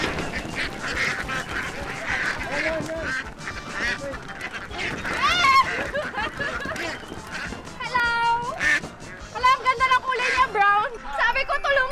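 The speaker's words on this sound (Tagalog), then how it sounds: "Ay, mga itik, ready na ba kayo maging ulam?" Ducks quack as they are being caught, with bursts of calls mixed with excited talking and laughter from several people close by.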